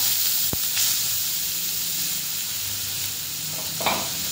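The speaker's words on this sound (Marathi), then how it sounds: "ह्याच्यामध्ये टाकायचे आहे मोहरी, जिरे आणि छान बारीक कापून घेतलेला कांदा" Chopped onion frying in hot oil with mustard seeds and cumin, a steady close sizzle and hiss with a sharp crackle or pop near the start and another stir near the end.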